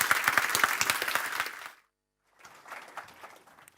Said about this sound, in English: a warm round of applause to welcome to the stage, please, the European Commissioner for Energy